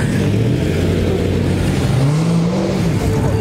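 A Dodge Challenger engine rumbles steadily at close range, its pitch rising and settling as it revs, with no voices.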